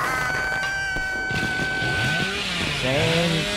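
A chainsaw revs in a horror video game, a loud buzzing engine with rising and falling pitch sweeps, close and continuous over a few seconds, with no talk.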